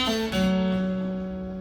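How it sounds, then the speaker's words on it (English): A single guitar riff from a song, a bright strummed attack followed by a slide and a pull-off into a sustained ringing note that fades out, heard alone and close. "So that riff is going to sound like this"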